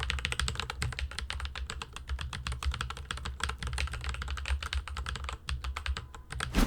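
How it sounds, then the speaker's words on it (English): Rapid, continuous typing on a mechanical keyboard with tactile Gateron switches, dense clacky keystrokes recorded up close with a brief pause near the end. "if you like your keyboard to sound like marbles rubbing against each other"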